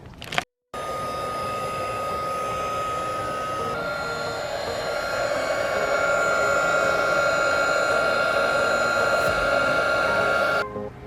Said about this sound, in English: Check out this heat gun we got here.